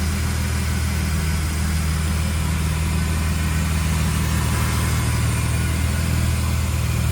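A 1999 Plymouth Prowler roadster's 3.5-liter V6 idling close up, a smooth, steady low rumble with an even, unchanging hum throughout and no voices.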